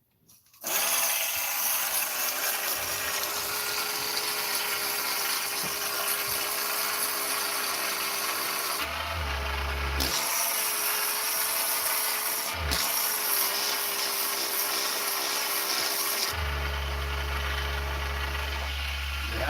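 A 50 grit sanding mandrel made from a drywall screw grinds a Husqvarna 288XP chainsaw part, a loud, steady high-pitched whine running alone with a few brief dips and changes in load.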